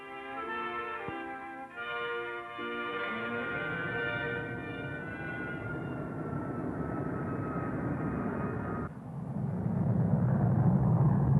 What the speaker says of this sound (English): These speedy jet aircraft have been built by the hundreds for Canada's defenses and air bases abroad